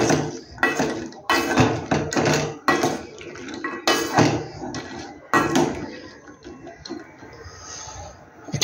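Cooked food is lifted out of a pan and placed onto a metal plate in a home kitchen, with a series of close clinks and scrapes of utensil against cookware in irregular bursts and no talking.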